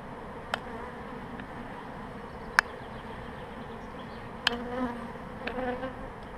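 Honey bees in a queen-rearing hive drone with a steady, faint buzz throughout, with a few sharp clicks and brief louder passes of individual bees close by.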